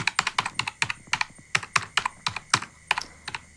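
Rapid typing on a computer keyboard while entering a login ID and email into a registration form, with dense, irregular clacking keystrokes close up and no voices.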